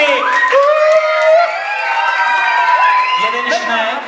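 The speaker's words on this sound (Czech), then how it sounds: "takže potlesk pro všechny 3." A crowd at a children's costume ball applauds and cheers the three winning models, clapping and whoops blending with a loud, bright voice talking over the celebration.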